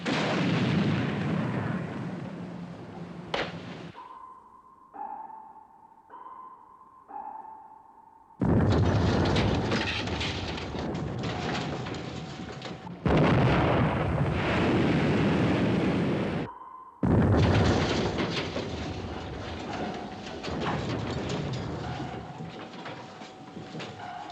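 Gunfire and heavy blasts in the 1957 submarine war film The Enemy Below: long roaring explosion-like bursts separated by gaps filled with steady sonar pings, loud and close with no talking.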